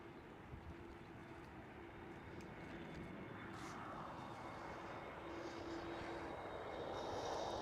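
A Transavia Airbus A321neo jet airliner at Schiphol Amsterdam, its engine noise faint and distant at first, gradually swelling as it approaches, with a low hum running beneath.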